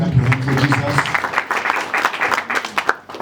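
A church congregation applauds together, dense clapping that keeps going steadily and fairly loud for a few seconds, with a low hum and some voices mixed in at the start.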